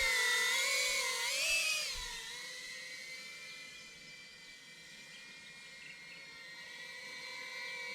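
Diatone Tina Whoop tiny drone flies with a high-pitched whining buzz from its small motors, its pitch wavering up and down and then settling into a steadier, quieter whine.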